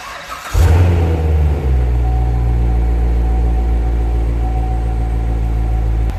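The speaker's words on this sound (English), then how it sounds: "All we do is start her up. 3, 2, 1." Chevrolet Corvette C7 Z51 V8 engine cranking and firing up, a sharp start with a brief rev, then settling into a loud, steady, deep idle rumble.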